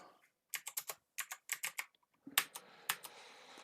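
Quick bursts of keystrokes clatter on a computer keyboard, close and fairly quiet, in short uneven runs with brief pauses between them.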